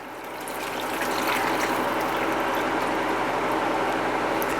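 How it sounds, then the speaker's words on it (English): Reserved pasta water pours into a simmering white wine lemon sauce in a pan, a loud, steady rushing hiss building quickly and holding without pause. "add in your 1 cup of pasta water that you reserved"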